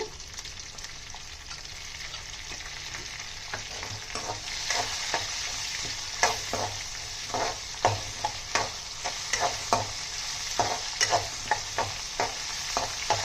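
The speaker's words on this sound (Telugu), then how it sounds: "పచ్చిమిరపకాయలు వేసుకొని వేపుకుందామండి." Green chilies and dried red chilies sizzle in hot oil with asafoetida for a mango-tomato chutney tempering, a steady close frying hiss with repeated sharp pops and spatters growing busier toward the end, no voices.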